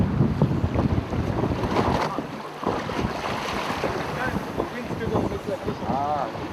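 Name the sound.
wind blowing on a fishing boat at sea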